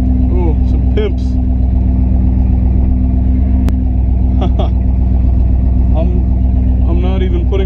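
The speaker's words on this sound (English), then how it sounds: "My back tires are spinning because we have no traction in this car." A Pontiac Firebird with little traction rumbles loudly and steadily from inside the cabin while its rear tires spin, as people talk over the engine's drone.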